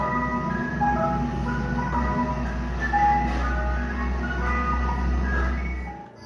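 An ice cream truck's tinkling jingle melody plays steadily and fairly loud at night over a low, constant engine rumble, with no talk.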